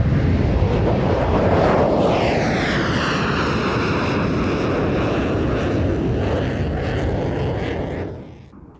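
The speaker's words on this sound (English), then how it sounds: "The Lockheed General Dynamics F-16 Fighting Falcon appears regularly at" An F-16 Fighting Falcon jet flying past at the Mildenhall Air Fete air show, giving a loud, continuous roar with a sweeping tone that fades toward the end.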